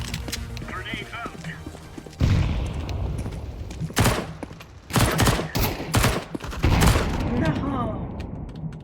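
Grenade blast and bursts of gunfire in a team shooter video game, several sharp loud broadband cracks and booms in quick succession partly over voices talking and game background noise.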